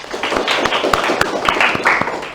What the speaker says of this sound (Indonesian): Boleh tepuk tangan Pak Tony.